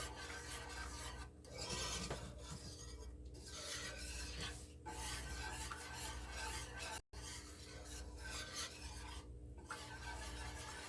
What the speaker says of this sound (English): you just want to keep mixing it as you cook it so nothing burns or scorches, especially dealing with cheese and milk